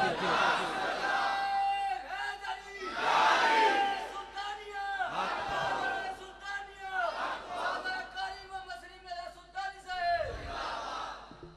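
A large crowd at a religious conference on Nowshera Road chants a slogan back in unison, with about five loud, surging shouted responses in a rhythmic call-and-answer pattern.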